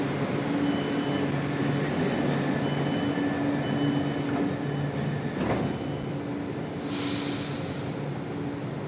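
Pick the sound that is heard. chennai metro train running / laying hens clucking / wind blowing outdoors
chennai metro train running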